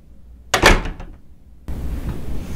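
A door is shut with a single loud thud and a short rattle, close by, followed by steady room noise and no voices.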